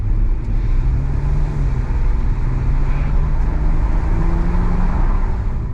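A 3.2 VR6 engine in a mk1 Audi TT pulling away with the windows down, heard from inside as a deep, steady low rumble with road and cabin noise, its pitch rising gradually under acceleration.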